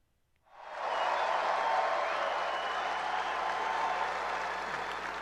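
A standing-room-only crowd at a Trump rally in the Kentucky Expo Center, Louisville, breaks into loud, sustained applause that swells within half a second and holds steady as a dense wash of clapping.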